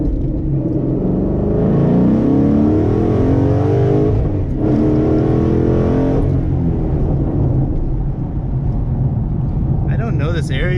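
A car engine revs and rumbles loudly on hilly streets in Rockland, California, its sound reflecting off the surroundings. The deep rumble is sustained throughout, swelling and easing, and a voice speaks over it.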